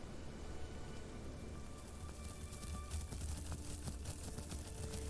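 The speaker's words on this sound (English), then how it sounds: "the rain is not coming down as hard" Rain falling in the dinosaur survival game Path of Titans, a soft, steady patter of drops on surfaces that keeps up evenly throughout, faint and alone.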